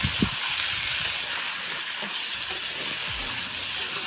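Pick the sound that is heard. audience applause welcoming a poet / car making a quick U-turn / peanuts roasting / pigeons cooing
peanuts roasting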